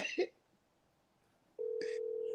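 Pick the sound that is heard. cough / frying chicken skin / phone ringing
phone ringing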